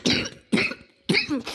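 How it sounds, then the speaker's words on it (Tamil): Three short, sharp coughs from one person, close and fairly loud, spaced about half a second apart. "இருமல் எடுத்துட்டேன், அதுக்கு சாரி கேட்டுக்கிறேன்"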